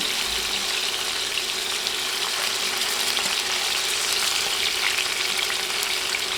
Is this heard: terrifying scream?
no